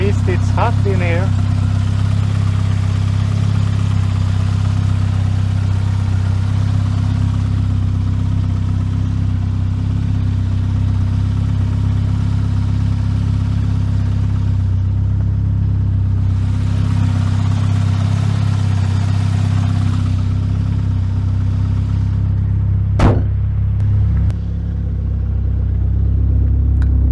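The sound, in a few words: SAAB car engine idling and revving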